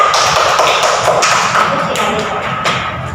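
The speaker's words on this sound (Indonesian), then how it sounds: "Tepuk tangan untuk Rian." A classroom claps for a student, giving a loud, dense patter of many hands that fades slightly toward the end.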